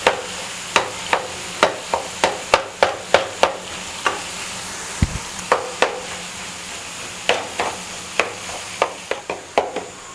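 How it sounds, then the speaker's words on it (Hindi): Tomatoes frying in a pan while fish katakat is prepared, giving a steady close sizzle broken by repeated sharp scrapes and taps of a spoon stirring through the pan. "पहले हम टमाटर को थोड़ा सा फ्राई करेंगे।"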